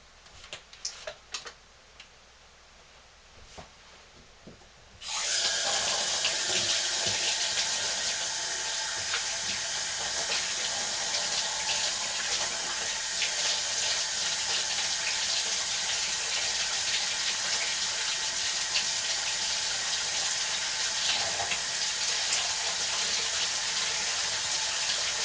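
Hot water gushes from a tap after a few seconds of quiet ticking, then runs as a steady, loud, unbroken hiss and splash.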